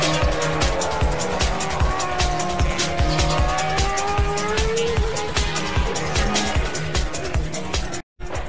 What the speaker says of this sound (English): one of these Jordan Formula One cars is going around the track somewhere in the world